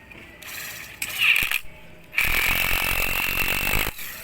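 A power screwdriver drives screws to fix an L-bracket onto the back of a rustic wooden pergola, with two loud whirring bursts, a short one and then a longer, steadier run, close by.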